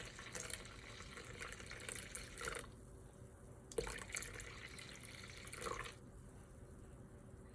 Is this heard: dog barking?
no